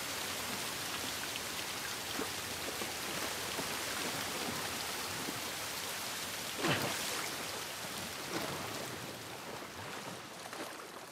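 Rain in the video game The Last of Us Part II, a dense continuous patter and hiss of drops on surfaces with occasional louder splashes and drips, no voices.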